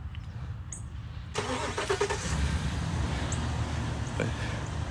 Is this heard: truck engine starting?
yes